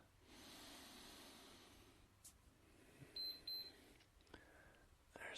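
An exercise timer goes off during a passive full-body stretching session, a few short electronic beeps around the middle of a quiet stretch, with soft breathing and faint rustling nearby.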